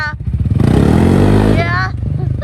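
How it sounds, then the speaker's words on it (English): A CFMOTO ZForce 500 side-by-side does a reverse burnout, its engine revving hard and loud for about a second before easing off, with voices talking over it at the start and end. "Did it just do a burnout reverse?"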